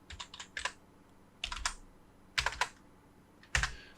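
Values being typed into AutoCAD on a computer keyboard: four short clusters of quick, crisp key clicks spaced about a second apart, close and fairly quiet against a faint room hum.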